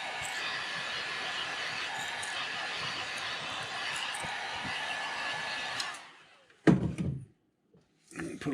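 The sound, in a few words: heat gun heat-setting airbrushed paint on crankbait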